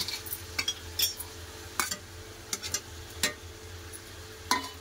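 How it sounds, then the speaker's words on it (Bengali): Meat and fried potatoes are stirred in an oily pan, a soft sizzle under repeated sharp scrapes and clinks of a spoon against the pan, with no talking. "আলু দিয়ে বেশ কিছুক্ষণ কষে নেবো"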